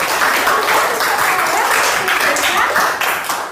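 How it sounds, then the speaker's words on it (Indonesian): Students in an Indonesian primary classroom applaud during a lesson on electric circuits, giving dense, steady clapping that stays loud throughout before tapering slightly at the end. "Kasih tepuk tangan untuk Bapak."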